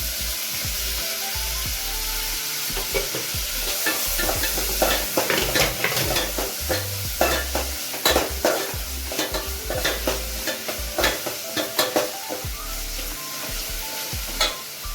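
Chopped tomato goes into a pan of frying onions, and a spatula scrapes and stirs briskly over a loud, steady sizzle, the strokes rising into a busy, rhythmic run close by.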